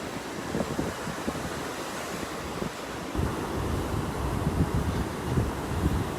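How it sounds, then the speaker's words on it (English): Ocean surf breaks along the beach at Pawleys Island at sunrise, a broad, steady roar of waves mixed with heavy wind buffeting the microphone, with no talk. "So now you can see the waves a little better"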